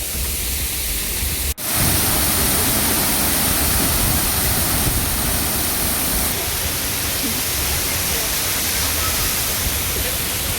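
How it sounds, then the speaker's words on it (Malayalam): Continuous loud roar of rushing water from a waterfall near Kuttikkanam, Kerala, steady and close, broken by one brief dropout near the start. "അടിപൊളി വെള്ളച്ചാട്ടം, ഇതുവഴി അങ്ങ് ഒഴുകി പോകുന്നത്"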